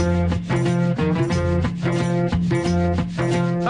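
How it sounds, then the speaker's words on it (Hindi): Song rhythm made by rubbing sandpaper and knocking bamboo sticks together, heard as a steady scraping and clacking pulse within a loud, dense music mix of a Hindi film song. "इस गाने में ये जो रिदम है इसे सैंड पेपर को घिसकर और बांसों को आपस में टकराकर आवाज तैयार की गई है।"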